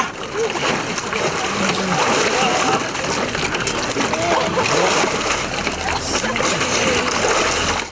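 People plunge into the icy water of a font at an outdoor Epiphany bathing event, with steady splashing and churning water mixed with a busy crowd and voices talking throughout.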